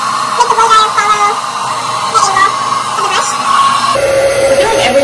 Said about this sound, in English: So I'm just gonna again put the blow dryer.